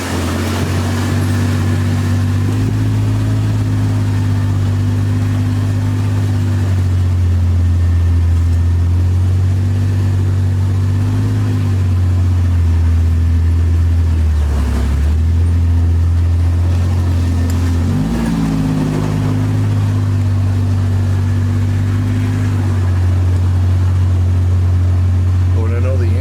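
A Kawasaki Mule Pro FXT utility vehicle drives along on a cold morning, its engine a steady low drone with slight rises and dips in pitch, heard close and continuous throughout.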